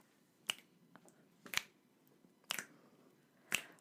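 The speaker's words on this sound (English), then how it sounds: "First, you have to snap your fingers." Four crisp, evenly spaced finger snaps ring out about once per second, close and alone in a quiet room.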